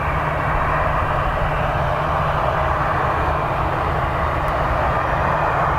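An aircraft taking off from runway 10 right at Dublin Airport on a windy, wet day, its engines producing a loud, steady, broad roar with a low hum that holds unchanged throughout.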